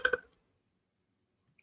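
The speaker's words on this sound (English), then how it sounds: "I'd prefer to call it a belch, but a burp will work" A single short, close belch lasting a fraction of a second, followed by near silence.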